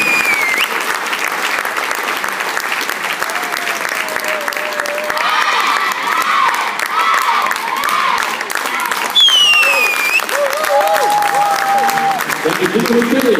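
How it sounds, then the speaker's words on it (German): A crowd at a U9 youth football tournament award ceremony in Möninghausen claps and cheers for the winning FSV Mainz 05 team, sustained loud applause with scattered whistles and shouts and voices mixed in. "Bei dem ich einen Applaus. Applaus."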